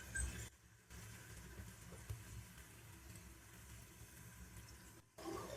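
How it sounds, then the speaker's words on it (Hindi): Faint, steady hissing sizzle as a little water is added to tomatoes cooking in a pan, continuing quietly with no one speaking. "थोड़ा सा पानी ऐड कर देंगे ताकि टमाटर अच्छे से गल जाए।"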